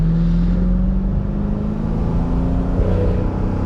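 A 2005 Mercedes-Benz CL55 AMG C215 with a supercharged engine accelerates, heard from inside the cabin as a loud, continuous low engine drone with rising tones and a steady rumble, with no talking.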